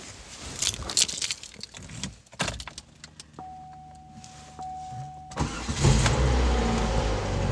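A Pontiac Grand Am's starter clicks and cranks briefly with a humming whir before the engine catches and settles into a rough, loud idle, near and unaccompanied by talk.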